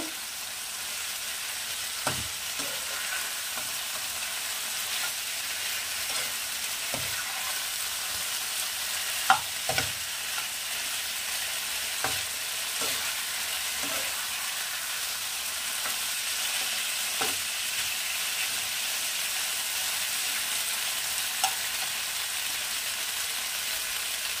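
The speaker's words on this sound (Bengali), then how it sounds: "এই একই সাথে করে নেব, কষিয়ে নেব। নাড়াচাড়া করে নেব।" Drumsticks, bottle gourd and fish curry ingredients stir-fried in a pan, a steady close sizzle broken by scattered scraping strokes of a spatula, with no talking.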